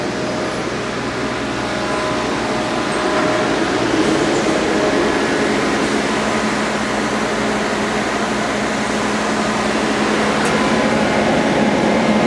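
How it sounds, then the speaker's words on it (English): Mori Seiki SL-15 CNC turning center running with its LNS turbo chip conveyor, a steady broadband machine hum with faint tonal whine, continuous and fairly loud throughout with no talking. "it's got a chip conveyor, LNS, I'm sorry, the turbo conveyor."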